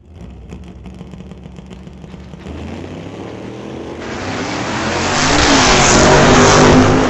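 A 1962 Chevrolet Bel Air and a 1977 Camaro race in a Super Shifter drag final. Their engines roar loud and close, swelling steadily as the cars accelerate down the strip.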